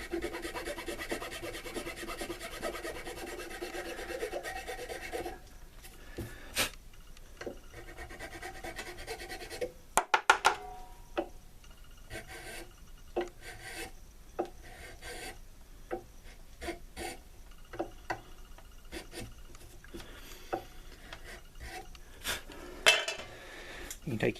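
Hand filing and rasping to round off the handle scales of a wrecked knife, a run of dense rough strokes that gives way to scattered scrapes, clanks and knocks of metal, with brief words spoken.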